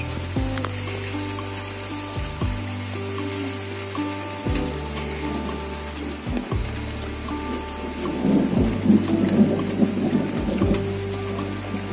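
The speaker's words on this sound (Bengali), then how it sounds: "কি জোর মেঘ ডাকছে," Heavy rain pours steadily on surfaces through an evening downpour while deep rolling thunder rumbles repeatedly, loud and sustained throughout.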